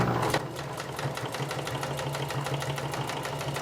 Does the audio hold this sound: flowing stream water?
no